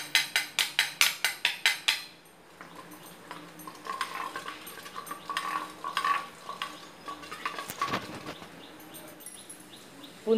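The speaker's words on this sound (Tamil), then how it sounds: "பூந்தி பொரிஞ்சிருச்சு நல்லா." Boondi batter drops fry in hot oil for motichoor ladoo, a steady close crackle and hiss that follows a quick run of rhythmic tapping from the ladle.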